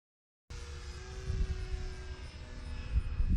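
An E-flite Air Tractor 1.5 RC model plane in flight, its electric motor and propeller giving a steady droning whine that starts abruptly after a short silence and swells slightly as it passes.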